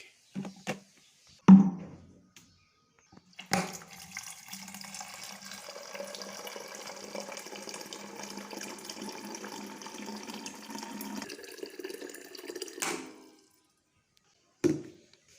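Water runs steadily from a tap into a container for about nine seconds, a continuous hiss and splash between brief knocks and handling sounds at the start and end, with no talking over it.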